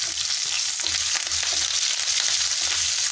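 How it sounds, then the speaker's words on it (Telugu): Curry leaves and chopped onion crackle and sizzle in hot oil with a mustard-seed tempering for an aloo curry, a loud, continuous frying hiss with small popping bursts throughout. "వెంటనే ఉల్లిపాయ ముక్కలు కూడా మనం వేసేసేద్దాము తిరగమాతలో."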